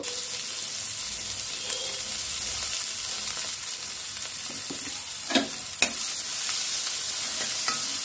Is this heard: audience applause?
no